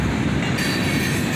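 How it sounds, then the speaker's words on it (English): A CSX freight train, led by an SD70MAC locomotive, rumbles past up close with a steady, loud roar of rolling railcars and faint wheel squeal, heard alone without any voices. "About 6 minutes later, the end of the train went by."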